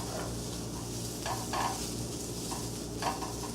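Vegetables and garlic fried in a pan while a rubber spatula or metal spoon pushes them around, giving a continuous close sizzle with a few louder scraping stirs and no talking.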